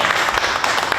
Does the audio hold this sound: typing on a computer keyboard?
no